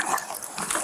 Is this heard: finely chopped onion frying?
no